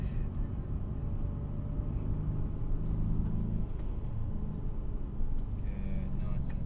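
A Mercedes car drives laps on a track, heard as a muffled, steady engine rumble from inside the cabin, fairly faint and even without sharp revs.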